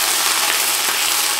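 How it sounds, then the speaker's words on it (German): Onions for onion soup frying in cooking oil in a pan, a loud, steady, dense sizzle with no pauses and no voices. "So, und das wird jetzt angebraten. Das müssen wir schön anbraten, auch mit Farbe."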